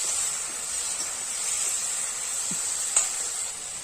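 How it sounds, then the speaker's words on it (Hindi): Tomatoes with green chilies frying in a pan for a small-fish curry, a steady bright sizzle with a couple of faint utensil scrapes. "बढ़िया से भून देबो टमाटर"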